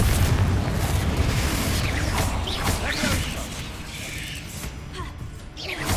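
A Confringo spell explodes in the Hogwarts Legacy video game, producing dense, continuous blasts and crackling debris that stay loud for several seconds, with faint voices mixed in.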